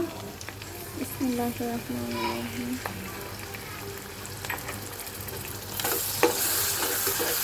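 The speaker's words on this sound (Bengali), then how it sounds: "এখন আমি টমেটো সস দিয়ে দিচ্ছি" Tomato sauce poured into a pan of frying onions and egg, with a steady sizzle and a spoon scraping and stirring throughout. A voice speaks briefly near the start over the cooking noise.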